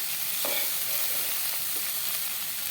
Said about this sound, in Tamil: அவல் ஃபுல்லாக சேர்த்ததுக்கு அப்புறமா இதை வந்து நல்லா நான் வந்து மிக்ஸ் பண்ணி விட்டுடுறேன்